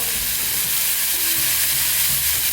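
Hakka noodles with vegetables, soy sauce and salt stir-fry in a hot pan, giving a loud, even, continuous sizzling hiss up close with faint stirring underneath and no voices.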